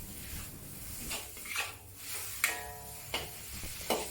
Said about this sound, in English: return the wilted spinach and give it a few quick stirs